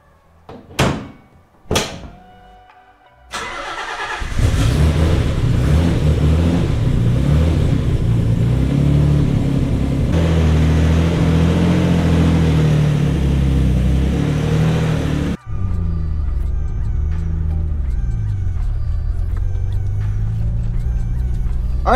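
A built twin turbo Nissan 300ZX with external wastegates: a couple of door thumps, then the engine starts and accelerates with a loud sustained roar, cuts off abruptly, and idles or cruises at a lower steady drone.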